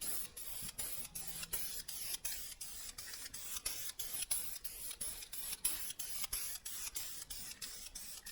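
Duplicolor Metal Cast red anodized spray paint is sprayed onto a bumper brake light, coming as a series of short, evenly spaced hissing bursts from the can, close and fairly soft, with no voices.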